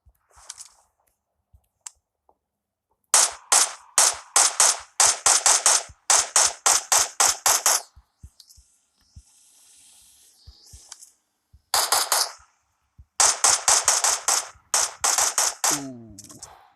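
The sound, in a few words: gunshots in a video game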